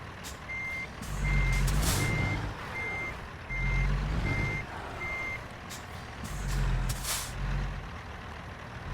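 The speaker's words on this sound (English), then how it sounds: "I am not going to be able to turn around this truck." A truck maneuvers to turn around, its backup alarm sounding a run of evenly spaced beeps over a heavy engine rumble, with loud air-brake hisses breaking in several times and no talking.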